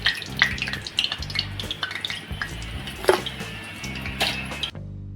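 Wheat-flour coconut puris deep-frying in oil over medium heat, a steady close sizzle with clinks of utensils and a pan scraping now and then, ending abruptly; no talk.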